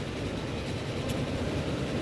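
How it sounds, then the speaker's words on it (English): A train running in the video game Transport Fever, a steady, rushing rumble of rolling wheels at moderate volume with one brief higher squeal partway through, and no one speaking. "Sam Root's train."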